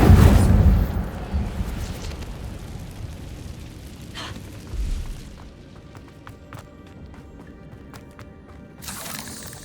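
The Incendio fire spell from the video game Hogwarts Legacy erupts in a loud whooshing burst at the start, then crackles and fades, with sparkling pops and a second flare near the end.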